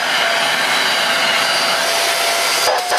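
A Bissell Featherweight Pro 2 in 1 vacuum cleaner runs steadily at close range, a loud continuous whirring hiss that holds even throughout, with a brief dip in the motor tone near the end.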